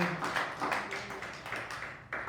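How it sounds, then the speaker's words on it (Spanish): A church congregation applauds in a brisk, rhythmic clapping pattern, many hands striking together in quick repeated bursts that continue steadily for a couple of seconds. "¿Por qué no le damos un aplauso al Señor?"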